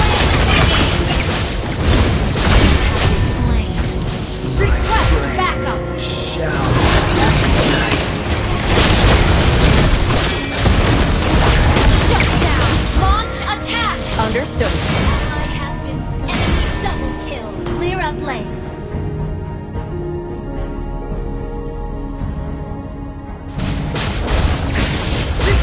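Lava burst skill explosions in Mobile Legends mobile game, with dense booming blasts and crashes over continuous game music and effects, loud throughout and thinning near the end.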